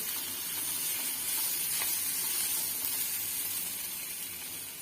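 Sweet corn with salt and masala frying in a pan gives a steady, close, hissing sizzle that runs continuously without pause, with no voices.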